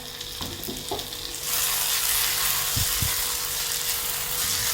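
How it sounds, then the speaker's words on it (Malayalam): Fried prawns being stirred into a masala in a pan for prawn roast: a few scraping stirs, then a loud, dense sizzle swells up and holds steady, close by, with no talking. "നമുക്ക് ചെമ്മീൻ ഫ്രൈ ചെയ്തത് ചേർത്ത് കൊടുക്കാം. എന്നിട്ട് നമുക്കൊന്ന് നന്നായിട്ട് ഇതൊന്ന് ഇളക്കി എടുത്ത് കൊടുക്കാം."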